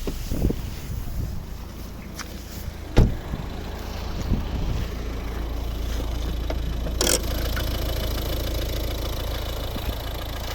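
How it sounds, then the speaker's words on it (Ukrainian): A 2011 Volvo V50 1.6 diesel engine idles with a steady low rumble, punctuated by a few sharp clicks and knocks, heard up close under the open hood. "Подивимося під капотом, як працює наш двигун знаменитий легендарний."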